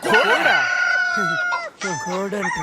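A rooster crows loudly and close by with a long drawn-out call, then breaks into short clucks, heard on its own in a Telugu film comedy scene.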